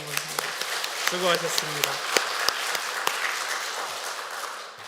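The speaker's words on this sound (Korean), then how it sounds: "우리 함께 한번 박수 한번 쳐볼까요?" A church congregation breaks into sustained applause during a Sunday worship service, the clapping steady and dense throughout, while a voice speaks briefly over it near the start.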